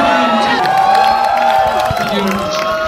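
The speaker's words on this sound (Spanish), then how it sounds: "Muy bien, aplauso." Studio audience at a Mexican Spanish-language TV show applauding and cheering after a correct trivia answer about the Defenders series, a dense crowd roar with mixed voices throughout.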